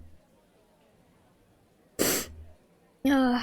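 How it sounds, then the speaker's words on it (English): A single loud, close sneeze bursts out after a quiet stretch, followed moments later by a voice starting to speak. "I've been sneezing"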